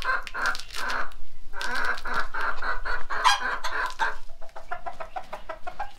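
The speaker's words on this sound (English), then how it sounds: "See, he's calling the hens." A rooster clucks repeatedly to call the hens, a close series of short rhythmic clucks in bursts, then quieter softer calls toward the end, with no talking.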